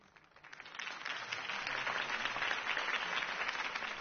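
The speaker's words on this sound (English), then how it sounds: "could have heard that applause" Crowd applause rising after a campaign speech in Batman: The Telltale Series, building within the first second into steady, dense clapping that holds loud to the end, with no voices over it.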